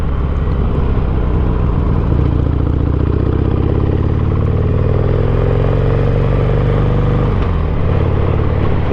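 A Harley-Davidson Roadster is ridden on the road, its engine giving a loud, continuous low rumble with rushing wind, the pitch shifting slightly as it accelerates and eases off.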